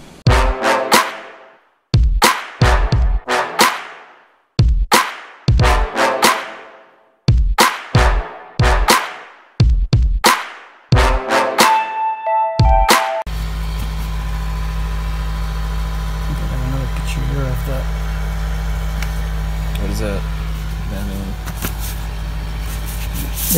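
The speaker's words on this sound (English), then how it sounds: "it has this loud buzzing sound. That is the sound of the fan." A greenhouse fan inflating double plastic layers gives a loud, steady buzzing drone with a low hum. It takes over midway, after a run of sharp rhythmic knocks.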